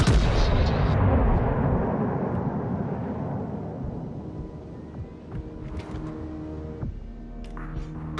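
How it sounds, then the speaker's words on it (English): Warship main guns firing in World of Warships: Legends, a single heavy booming salvo at the start that rolls off into a long fading rumble, followed by faint distant clatter. "Concentrate fire on that enemy warship."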